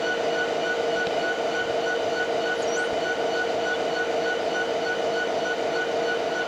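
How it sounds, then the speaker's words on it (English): Distant train idling beyond a rail yard where derailed cars were cleared and track repair is underway, a steady continuous rumble with sustained tonal hum and a faint brief squeal, no talk. "There is a train waiting to come in the yard way out there past the snowplow."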